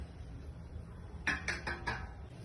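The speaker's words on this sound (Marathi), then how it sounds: "आता आपण एका प्लेटमध्ये काढून घेऊया" Cooked rice-flour dough for modak being scraped out of a pan onto a plate, heard as four quick metallic clinks of a utensil against the vessel after a quiet stretch, close and fairly soft.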